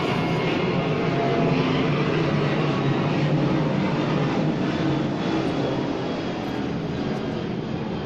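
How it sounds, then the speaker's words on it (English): An airplane passes overhead outdoors, a steady, broad engine roar holding for several seconds at moderate distance with no talk over it. "I am going to wait for the airplane to move."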